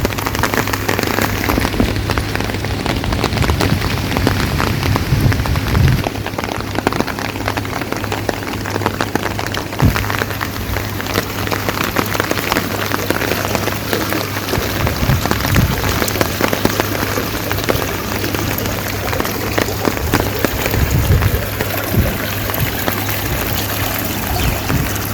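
Light rain falling on a Bangladeshi village, a steady, dense patter of drops on surfaces with a faint low hum beneath, continuous and even with no talking.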